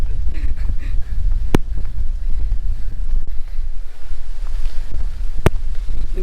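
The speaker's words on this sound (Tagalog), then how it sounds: "Hindi ka kaya ni mapig yung ganito kalakas na hangin." Strong wind buffets the microphone in a steady, heavy rush on a descent near Sinapulan Underground River in Sultan Kudarat, Philippines, with a couple of sharp clicks cutting through.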